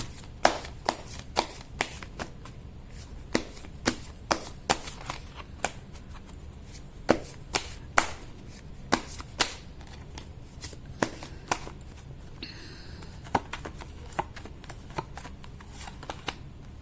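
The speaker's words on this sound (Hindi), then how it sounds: "मैं कर लेती हूँ कार्ड की शफलिंग।" Tarot cards are shuffled by hand in a steady run of crisp riffling snaps and soft flutters, close and clear, for about seventeen seconds with no voices.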